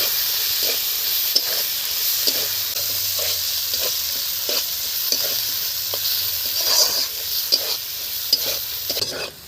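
Spice paste of chili, tomato, salt and turmeric sizzles steadily in a pan, a constant close hiss punctuated by regular scraping strokes as it is stirred and fried.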